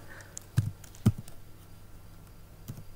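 Sparse keystrokes as Python code is typed on a computer keyboard, a few close distinct taps separated by pauses over quiet room noise, no talking.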